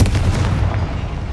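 A Confringo fire-blast spell explodes in Hogwarts Legacy, a loud, booming burst with a dense low rumble that rolls on for over a second without fading much.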